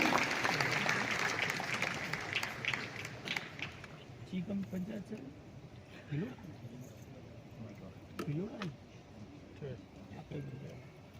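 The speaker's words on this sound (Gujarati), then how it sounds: "ખૂબ તાળીઓ સાથે આ મહિલા ટીમને આપણે વધાવીએ" An audience at a felicitation ceremony for newly elected sarpanches at Mahatma Mandir, Gandhinagar, applauds a women's team; broad clapping fills the opening seconds and then fades under someone speaking.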